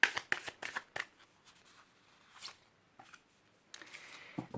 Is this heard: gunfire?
no